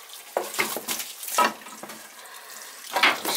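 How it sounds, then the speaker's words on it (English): Water from an oil burner tank is dumped out into a crawl space, sounding as several short splashing and pouring bursts with brief pauses between them, close and fairly loud. "I'm just dumping water in the crawl space here."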